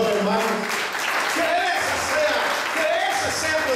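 A church congregation applauds during a sermon, producing a short burst of continuous clapping with voices mixed into the sound of the room.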